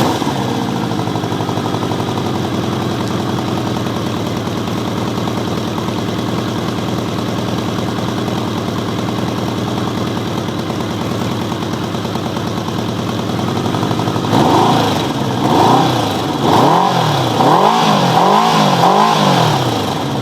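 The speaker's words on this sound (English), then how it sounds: "So what I'm going to do is just start her up for you, get a little exhaust clip for you" A 1984 Honda 650 Nighthawk motorcycle idles with a steady, close mechanical rumble, then its engine is blipped repeatedly, the revs rising and falling in quick, loud surges.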